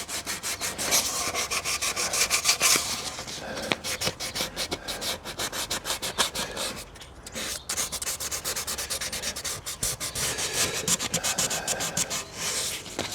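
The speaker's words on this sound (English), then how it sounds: "it has to get sanded" Metal cooling tins from a 1972 Volkswagen Super Beetle being hand-sanded for paint prep, a steady close rasping scrub in quick repeated strokes with a brief pause partway through.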